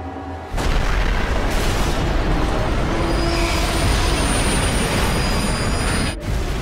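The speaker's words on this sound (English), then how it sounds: "The trains collide like two charging rams at a combined speed of nearly 200 kilometers per hour" A sudden, loud roaring crash of toy wooden-railway trains colliding, a sustained heavy rumble and grinding that cuts off abruptly near the end.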